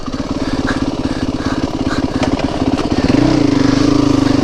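Motorbike riding off-road over Salter Fell, the engine chugging with a fast, steady pulse close by, then rising in pitch and loudness as it revs near the end, with wind and rough ground noise around it.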